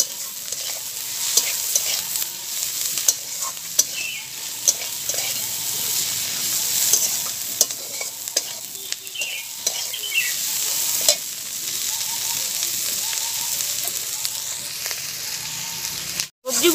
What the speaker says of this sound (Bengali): টমেটোটাকেও একটু নেড়ে চেড়ে ভেজে নেব